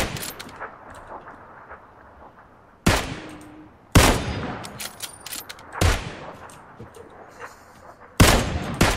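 Four loud, sharp gunshots ring out at irregular intervals over a low, rumbling game ambience in PlayerUnknown's Battlegrounds.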